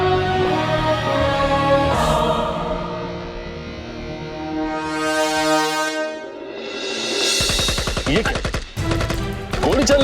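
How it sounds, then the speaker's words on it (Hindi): Gunfire in a Hindi film action scene: a rapid burst of sharp, loud shots near the end, following a stretch of tonal, echoing film music. "गोली चलने की आवाज।"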